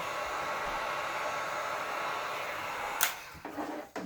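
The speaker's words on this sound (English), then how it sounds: "maybe it does need a hairdryer" A hair dryer blows steadily on an acrylic paint pour, a constant close airy hiss that runs unbroken for about three seconds before cutting out into a few short knocks and handling noises.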